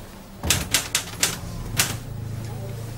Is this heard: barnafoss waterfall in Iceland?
no